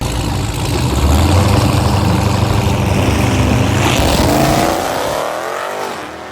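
A 1,500 hp lowered Jeep Trackhawk roars loudly at a drag strip, its engine note holding steady and rising before easing off at the end.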